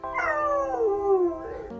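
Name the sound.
dog howling along, singing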